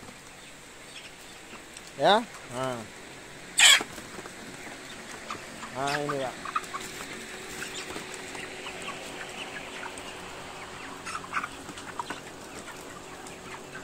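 Broiler chickens 32 days old cluck and squawk inside a coop, with a few loud nearby calls standing out over a low background of quieter clucking, while someone speaks briefly.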